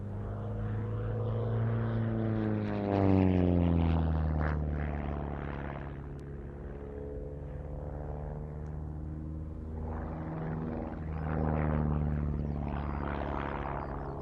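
A propeller aircraft at an airshow drones through a stall turn, its engine note sliding down in pitch as power fades, then building again, loud and continuous with no voices.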